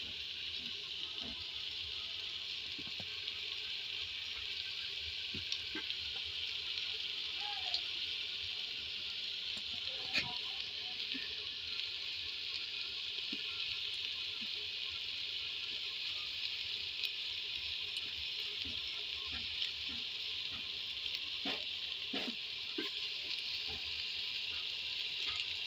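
Chicken pieces frying in a handi pot, giving a steady, even hiss of sizzling oil with faint scattered crackles and occasional soft clinks, continuous and close throughout with no talking.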